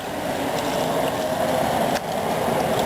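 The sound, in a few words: water trickling out of an essential oil still's condenser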